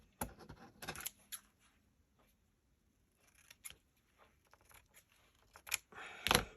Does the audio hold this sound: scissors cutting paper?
yes